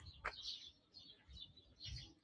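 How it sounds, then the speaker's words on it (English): Birds chirping in a quiet courtyard in the Marais, Paris, a few short tweets and calls spread over two seconds, faint and moderately distant, with no traffic or talk. "you're in the heart of Paris and you hear no cars, nothing, just the birds"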